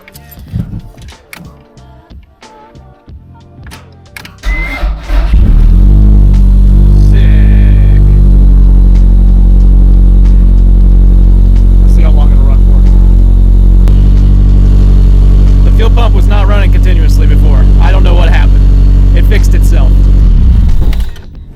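A 1988 Toyota Celica AllTrac engine cranks briefly and then catches, settling into a loud, steady close-up idle that runs for about fifteen seconds before cutting off.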